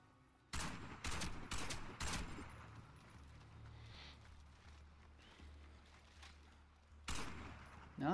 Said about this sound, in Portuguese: Tô vendo tiroteio de lá.